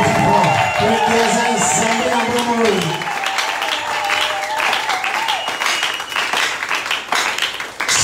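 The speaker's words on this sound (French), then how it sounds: "Nous allons la manifester par des acclamations." A church congregation at a seminary gathering breaks into loud cheering and applause, shouted voices dominating at first, then giving way to sustained, dense clapping that continues to the end.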